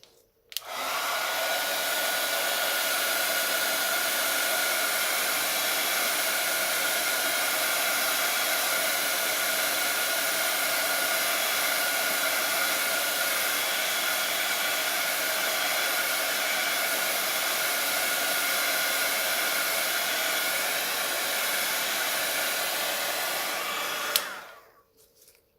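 A hair dryer blows steadily across an alcohol ink cloud painting, a loud, continuous whoosh that starts abruptly, holds even for about 24 seconds with no talk, then cuts off.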